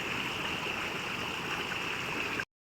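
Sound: flowing stream water

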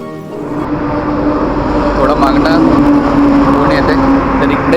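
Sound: highway traffic noise

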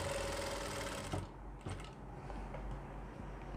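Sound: sewing machine stitching a pant leg seam

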